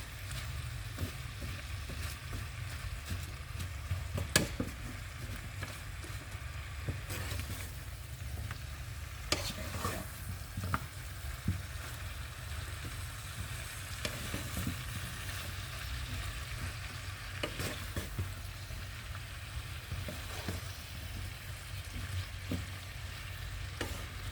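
Malabar spinach and shrimp frying in a pan, a steady close sizzle running throughout with scattered scraping and clinking from stirring, no voices.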